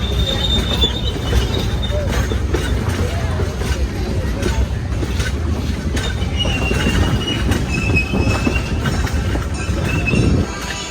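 A train rumbling along rails at a train event, a steady close roar with faint wheel squeals, with people talking over it.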